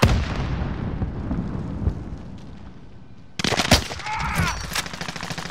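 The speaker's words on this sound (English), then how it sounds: "Throwing grenade!" A grenade blast and surrounding combat in Call of Duty: Modern Warfare, heavy rumbling explosion noise giving way to a sudden burst of loud, crackling gunfire and impacts, close and dense with no talk.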